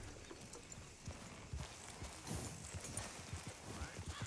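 Horse hooves clip-clop at a steady walking rhythm in Red Dead Redemption 2, fairly close and continuous over a low ambient outdoor background, with no talk.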